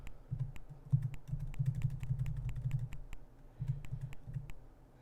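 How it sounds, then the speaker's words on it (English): Computer keyboard clicking during a live game stream, quick irregular bursts of close keystrokes with short pauses between runs, fairly quiet and with no speech. "Apologies if my keyboard clicking is a little on the loud side."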